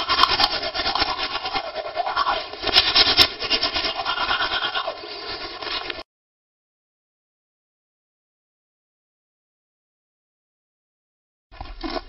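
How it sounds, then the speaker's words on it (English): Scrubbing, rubbing sound of a character brushing his teeth in the video game Plan Z. It comes as steady, close brushing strokes for about six seconds, then stops into silence, with a brief return at the very end. "Now we gotta watch him brush his teeth."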